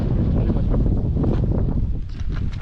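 Steady wind on Bhoma Pahad hill, Renukoot, Uttar Pradesh, buffets the microphone in a continuous low roar, with faint voices mixed in underneath.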